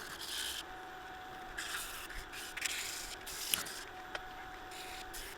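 Acacia hardwood sanded by hand with 120 grit sandpaper, steady back-and-forth rasping strokes close to the mic, fairly quiet with a few small knocks and no talking.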